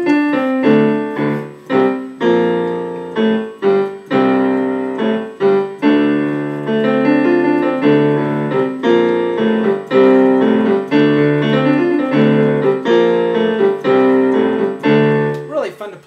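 A slow piano rock lick, chords and single notes struck in a steady, deliberate rhythm, played alone and clearly up close.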